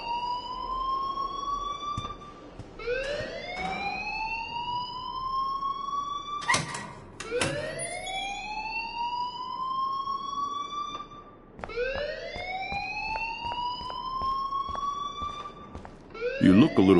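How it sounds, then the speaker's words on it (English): An alarm in the video game Life is Strange wails in repeated rising siren sweeps, each climbing and holding before restarting, loud and continuous for the whole stretch with a thump near the end. "please turn off that alarm since that's your job"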